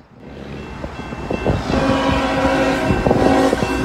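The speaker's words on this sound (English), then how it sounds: "I was just told by another rail fan here that we've got a geometry train coming this way." A freight train rolls past on the Norfolk Southern Toledo line in Butler County, a building rumble of wheels and rhythmic clacking over the rails with a steady drone, close and loud, with no talk.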